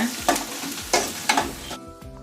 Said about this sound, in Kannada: ಈಗ ಅದನ್ನ ಫ್ರೈ ಮಾಡ್ಕೊಳ್ಳಿ 1-2 ನಿಮಿಷ